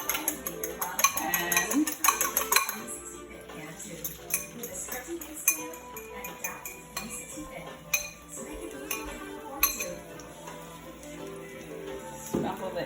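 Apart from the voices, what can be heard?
beating eggs in a bowl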